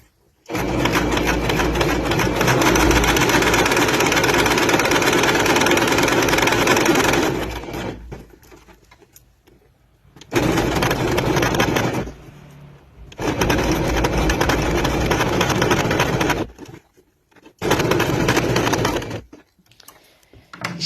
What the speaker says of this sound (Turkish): Makinamızı zikzak ayarına getirip genişlik ve adım ayarlarını belirliyoruz.